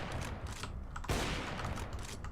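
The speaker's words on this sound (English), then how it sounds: "you can shoot through this floor" Gunfire in a video game, fired through a floor on the Nuke map: dense, sustained rapid shots, loud and close, with a sharper burst about halfway through.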